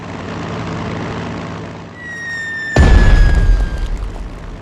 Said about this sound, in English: Nobody expects a Soviet bombing raid.